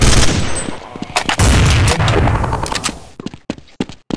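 Rapid gunfire in Counter Strike 1.6 on Dust 2, loud close bursts of shots followed by sparser single reports and sharp clicks toward the end.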